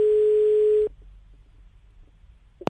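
A telephone ringback tone while placing a call, one steady electronic beep held for almost a second then cut off, followed by quiet line hiss and a short click near the end.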